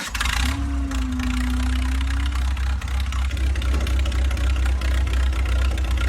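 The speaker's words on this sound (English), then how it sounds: "that to me sounds like a Four-cylinder something" A four-cylinder engine idles steadily, a loud low rumble running throughout, with a brief whining tone early on.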